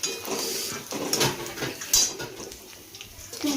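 Onion and coconut being roasted in an iron wok, with clinks and scrapes of a metal spatula against the pan in irregular bursts, close and fairly quiet.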